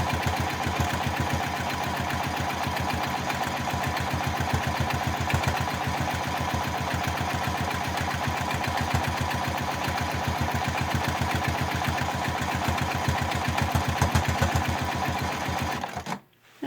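A sewing machine stitches circles on a quilt with variegated thread, a loud, steady rhythmic chatter of the needle that runs on without a break and stops abruptly at the end.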